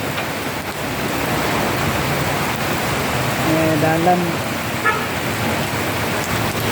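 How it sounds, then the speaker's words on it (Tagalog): Steady rain falls outdoors in a dense, even hiss that holds without a break, with a voice briefly speaking over it. "Guys, ulan na oh."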